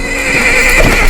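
A horse whinnies loudly and close at hand while hooves clop on the ground, all within a brief burst lasting about a second.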